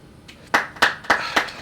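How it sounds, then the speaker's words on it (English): A few people clap in quick bursts, five sharp, close claps in a loose rhythm over a quiet room, with no talking. "Claps all around."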